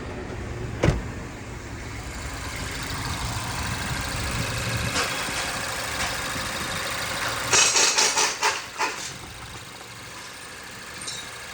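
Mazda 4-cylinder car engine idling after a high-pressure fuel pump replacement: a steady, moderate mechanical hum that runs throughout, with a sharp click early on and a short series of rattling clicks later.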